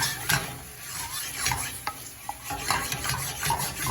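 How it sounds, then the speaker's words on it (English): Orecchiette pasta is shaken and stirred in a bubbling pan sauce, with rhythmic scraping and clinking strokes over a soft steady sizzle, close and fairly quiet. "I'm just going to shake and stir and let that come together into a nice pan sauce"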